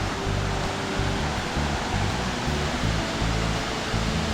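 A large waterfall on a hiking trail at Egypt Falls in Nova Scotia roars in a steady, dense broadband rush, close and continuous throughout with no talk over it.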